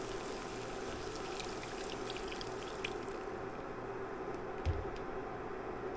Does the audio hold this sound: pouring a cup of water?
yes